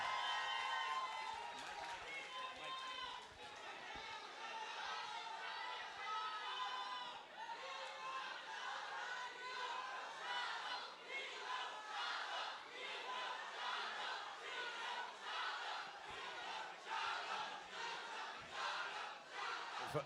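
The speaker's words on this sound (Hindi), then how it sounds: "एक बार जोरदार ताली हो चाहिए पीछे तक गाइस" Large crowd at a film press meet for Pathaan clapping and cheering steadily throughout, a dense wash of applause with shouts rising over it.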